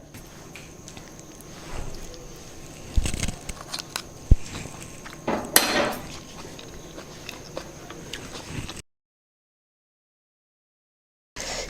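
Capsicum pickle is scraped from a pan into a bowl with scattered soft wet scrapes, squishes and light clinks, close and moderate, before the sound cuts to silence.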